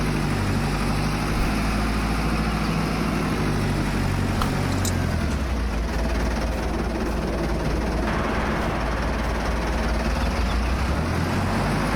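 A steady, continuous engine drone from a tractor in a farming video game runs throughout without pause, loud and even, with no one talking.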